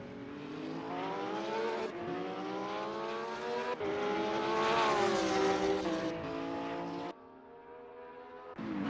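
Racing cars, including a BMW Z4 GT3, scream through Monza in a GT3 race, a loud engine whine rising and falling through gear changes and fading near the end.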